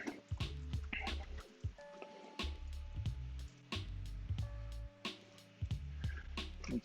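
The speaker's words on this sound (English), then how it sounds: "let's try not to drip quite all the water across the kitchen" Water dripping from cooked pasta in a home kitchen while making orecchiette with veal, heard as close, irregular wet drips and squishy splatters with short pauses between bursts.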